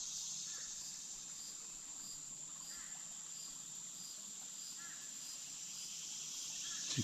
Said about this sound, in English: Cicadas, and there's a bird still chirping.